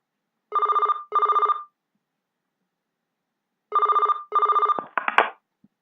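An electronic phone in the video game The Night Shift: Iggy's Funhouse gives two pairs of trilling rings with a long silent gap between them. A receiver clatters at the end as the call is picked up.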